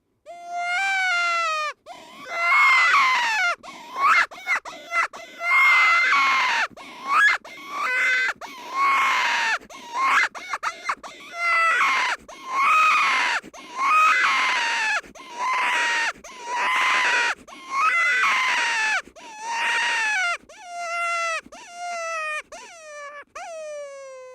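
A hunter's mouth call imitates a raspy cottontail rabbit in distress, a long series of excited, wavering squeals and cries repeated almost without pause, loud and close, in brush country.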